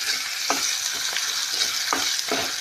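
Ginger and onions sizzle in an oil-filled pan for a bitter gourd curry, a steady close frying hiss broken by several rhythmic spoon-scraping stirs, with no voices.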